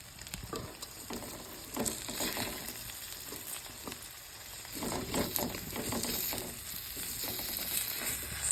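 Three eggs frying in oil in a pan over a low gas flame, a steady close sizzle with crackling pops and occasional scraping stirs, no voices.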